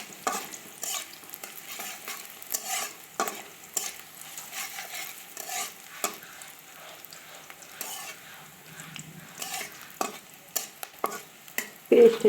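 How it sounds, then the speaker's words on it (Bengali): Onions fry in a pan with oil, a soft continuous sizzle broken by repeated scraping stirs of a utensil against the pan, close and fairly quiet, with no talking. "দেখুন পেঁয়াজটা ভাজা হইতেছে।"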